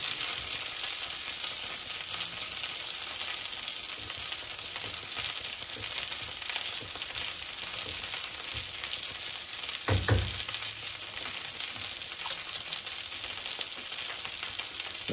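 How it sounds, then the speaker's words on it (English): A chicken and mushroom dish simmers and sizzles softly in a pan, a steady low hiss with one dull knock of the spoon partway through as it is gently stirred. "I'm just going to keep stirring it gently like this."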